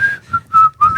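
A person whistles to imitate someone whistling idly to himself: four short, clear, close notes in a quick uneven phrase.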